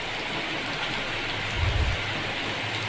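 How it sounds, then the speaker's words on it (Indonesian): Steady rain falls at night, an even hiss of drops close by with a soft low rumble swelling briefly near the middle, like distant thunder, and no voices. "Malam yang masih meneteskan sisa-sisa air hujan."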